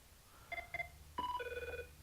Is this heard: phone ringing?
yes